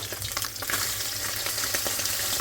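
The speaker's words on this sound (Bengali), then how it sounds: "মেয়ের মাছগুলো ভাইজা দিই" Fish frying in a pan gives a steady, close, loud sizzle with faint crackles and a few stirring sounds, and no one talking.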